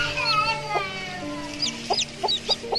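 Bald chickens cluck in short, scattered bursts, close by, with a low steady hum underneath.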